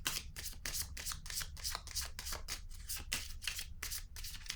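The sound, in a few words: tarot card being handled and turned over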